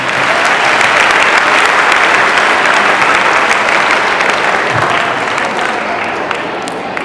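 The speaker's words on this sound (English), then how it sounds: "please have a great round of applause for all the participants" An audience at an International Dance Day 2023 event gives a sustained round of applause for the dance performance participants. The dense, loud clapping fills the whole stretch and eases off slightly near the end.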